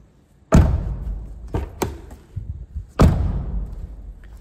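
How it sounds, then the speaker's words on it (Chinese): The front door of a van fitted with added sound insulation is shut twice with firm, muffled thuds, with a few lighter knocks and rattles between the two closes. "听听关门的声音。"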